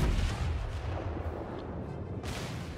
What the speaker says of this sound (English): the Myogi is firing HE